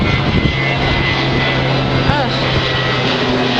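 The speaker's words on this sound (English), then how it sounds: "That's one of those propeller planes." A twin-engine propeller airplane drones overhead, a loud steady engine hum filling the whole stretch with no clear rise or fade, heard outdoors in a garden under dark rain clouds.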